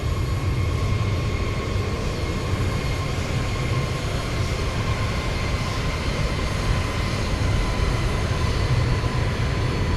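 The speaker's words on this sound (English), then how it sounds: "Let's do one more flyby. Hold your ears." An aircraft in the X-Plane 12 flight simulator makes a flyby, its engines giving a loud, continuous roar with a steady tonal drone throughout and no talking.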